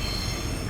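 An Indonesian-made KRL commuter train in Jakarta rides the rails, heard from on board as a steady rolling rumble with faint high wheel squeal.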